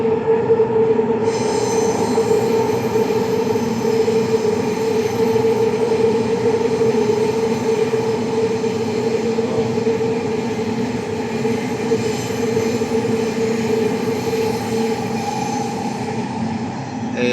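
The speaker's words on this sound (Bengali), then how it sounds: "ঢুকে যাচ্ছে ট্রেন উপরে হাইওয়ে জন্য নিচে দিয়ে রাস্তা গেছে" A Riyadh metro train runs steadily with loud, continuous rumble and wheel squeal from start to finish, the tone sustained and droning as it travels into a section beneath a highway, with no voices present.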